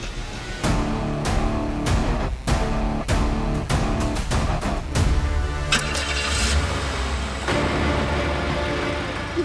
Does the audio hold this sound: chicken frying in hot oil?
no